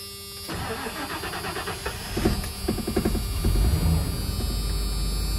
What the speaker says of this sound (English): Let's see if we can make this thing start up again